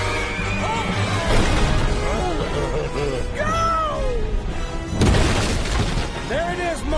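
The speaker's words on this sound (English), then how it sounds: "I've already seen what Shrek does to the entire factory floor, trashing the equipment, smashing the more potion bottles" Glass potion bottles and factory equipment being smashed in a Shrek film scene, heavy crashes and shattering with a second loud burst near the end, layered with shouting voices, creature cries and score.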